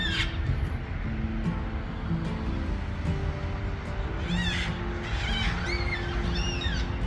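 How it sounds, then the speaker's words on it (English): Black swans calling at Woodcroft Lakes, a series of mournful, honking calls over several seconds amid other bird chirps and a steady outdoor background. "Love the black swan."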